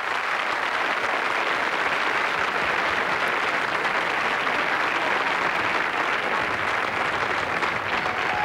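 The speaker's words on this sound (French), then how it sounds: "je vous demande simplement de l'applaudir" A French television studio audience applauds a singer, a dense, steady roar of many hands clapping at close range, continuous and even for the whole stretch with no voices rising above it.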